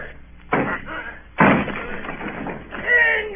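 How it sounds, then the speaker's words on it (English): In a vintage radio drama, two heavy crashing blows of a door being broken down land in quick succession, loud and thick in a narrow old-broadcast sound, with a voice rising at the end. "Down with the door, then!"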